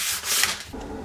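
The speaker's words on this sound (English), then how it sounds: "Just a light sanding, don't need much." A steady, close scratchy rubbing of sandpaper lightly sanding wooden kitchen cabinets, continuous for about a second with a slight dip midway.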